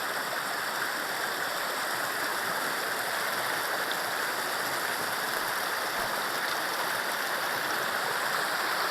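Small creek flowing at a hiking trail crossing in wet-season northwest Oregon, a steady close broadband rush and babble of water with no voices.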